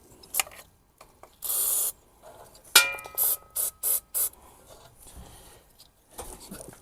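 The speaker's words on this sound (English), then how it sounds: "I'll use this spray grease." Several short hissing bursts from an aerosol can of spray grease on a van's rear brakes, one longer blast then a quick series, with clicks and handling noise between.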